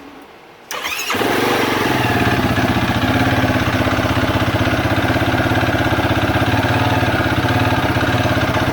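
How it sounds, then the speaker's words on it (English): Rebuilt 2009-2025 Yamaha YFZ450R ATV single-cylinder engine cranking over and firing up, then settling into a steady, loud, close idle with no voices. "So let's give it a test fire."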